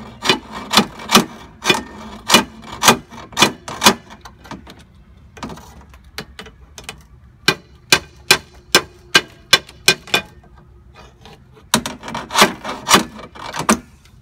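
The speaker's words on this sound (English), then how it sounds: "bang on that decoupler" A car alternator's decoupler pulley struck repeatedly with a tool, sharp evenly spaced knocks coming in rapid bursts with short pauses between them, close and loud.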